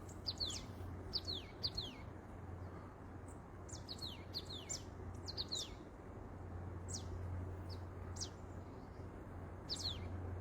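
Birds chirp in short, high, repeated bursts across a steady low background hum on a September morning seaside promenade in Świnoujście, with several calls scattered throughout.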